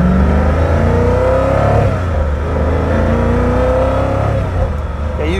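A Koenigsegg Agera RS1 engine revs hard under acceleration, its loud, close roar rising and falling in pitch for several seconds with no talking.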